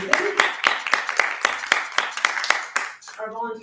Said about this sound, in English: So I want to give a round of applause for that, because we were able to do that under budget.